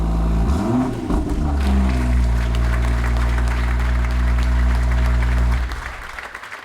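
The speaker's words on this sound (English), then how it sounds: "And that is the M2 sound" BMW M2 Coupé engine fired up at the push of a button, rumbling loudly with a rev blip at start, then a steady deep idle for several seconds before shutting off and fading.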